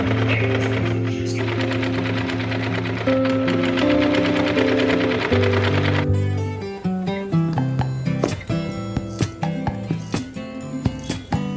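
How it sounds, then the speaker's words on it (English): A sewing machine stitches the double-folded edges of a bias skirt's main fabric, running in a steady continuous burst, then slowing into separate, uneven stitch clatters in the second half. "Now the last step is to double fold the edges of the main fabric and sew it"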